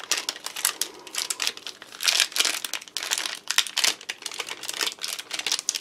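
Tough plastic wrapper on an apricot and honey fig-roll-style bar being torn and wrestled open, a steady run of loud, close crinkling and crackling bursts with no talk.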